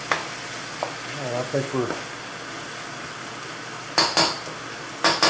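Vegetables for beef and broccoli simmer in a pan with a constant sizzle; someone speaks briefly early on, and sharp metallic clanks of a utensil against the pan sound twice near the end.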